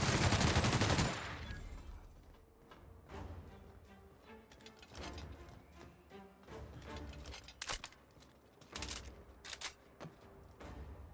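Gunfire rings out in The Outer Worlds on Supernova difficulty: a loud blast at the start, then repeated shots and short bursts at an uneven pace, with no talking.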